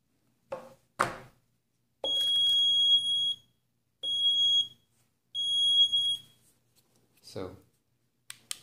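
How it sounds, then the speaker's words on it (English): A handheld Low-E glass coating tester, model RG-306, gives three steady high-pitched beeps with short gaps between them, close by, with brief handling noises before and after. "simply touch, there's some beep and the light will turn on."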